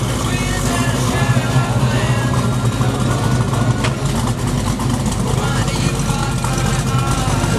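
A 1968 Chevrolet Camaro engine idling at a performance auto shop, a steady deep rumble through a big clean exhaust, loud and close, with a faint voice over it.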